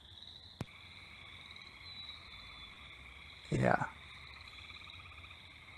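A gray tree frog gives a melodious, continuous trill against a steady background chorus of frogs on a spring night in Minnesota, with a brief voice and a short louder burst partway through.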